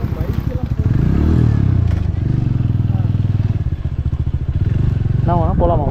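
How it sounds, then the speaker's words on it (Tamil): A motorcycle rides along a barrage road between Salem and Poolambatti, its engine a steady, close, low drone with pulsing rhythm under wind rumble, while someone talks over it throughout. "பைக்கில் போகலாம்."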